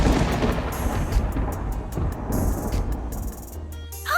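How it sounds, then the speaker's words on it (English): Thunder rumbles overhead in a rainstorm, with a deep, rolling boom and crackling bursts that stay loud and continuous for about four seconds. "That is thunder."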